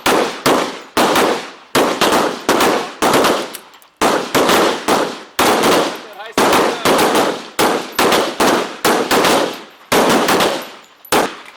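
Live-fire gunshots at the Clark County shooting range during a 2005 United Force Options session: loud, close bursts of rapid shots in quick clusters, separated by brief pauses across the whole stretch.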